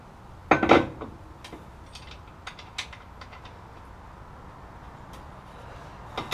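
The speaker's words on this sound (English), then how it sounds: "I'm gonna get that lower spindle on." Metal clanks and scrapes while a lower spindle is fitted onto a GM A-body front suspension, with a loud clatter early on, then scattered light taps and creaks, close and with no talk.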